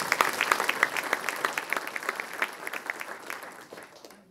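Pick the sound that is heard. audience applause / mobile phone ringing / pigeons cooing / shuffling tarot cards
audience applause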